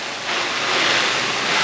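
Water is sprayed from a hose onto a Kodiak Canvas truck-bed tent, a loud, steady hissing rush that swells slightly after a moment and runs unbroken, with no talk.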